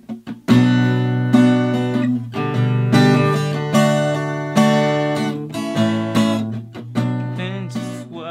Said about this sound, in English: As you can see, I'm just strumming up and down